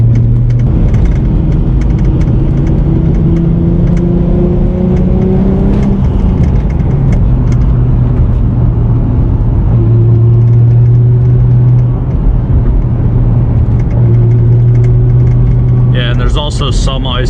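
A 2008 V6 Mustang drives on winter roads, its engine steadily droning and rising in pitch through accelerations, with continuous road and wind noise throughout.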